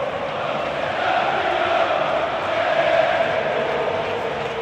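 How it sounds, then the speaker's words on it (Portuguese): Flamengo supporters fill a football stadium with a steady, far-off roar of cheering and chanting that holds at an even level throughout, celebrating a win over Bahia. "Olha só a torcida do Flamengo comemorando, que sabe o tamanho dessa vitória"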